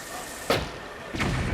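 Two bomb arrow explosions in Zelda: Breath of the Wild, each a short, muffled booming burst with a decaying tail, spaced well under a second apart over a quiet game background.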